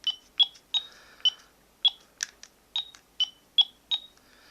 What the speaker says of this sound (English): The number pad has a 3-tone keypad.